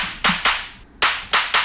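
Sharp, bright clap hits repeat in a quick rhythmic pattern, five crisp strikes with a short gap, dry and up front.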